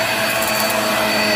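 A Black + Decker upright vacuum cleaner runs with a steady, loud motor whine and rushing airflow throughout, close by and with no talking.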